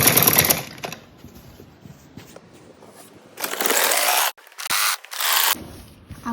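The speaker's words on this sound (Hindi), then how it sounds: "उसके ऊपर ही एक सिलाई लगाते जाएंगे" A sewing machine stitches over the piping seam of a kurti front in loud bursts of rapid mechanical clatter, separated by quieter pauses and handling noises.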